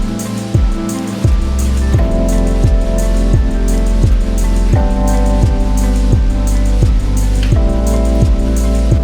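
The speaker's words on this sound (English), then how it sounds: "all of that rain that's coming back up, like reverse rain" Dense spray from Victoria Falls pours down like heavy rain, a loud, unbroken roaring wash up close with a steady rhythmic pulsing running through it.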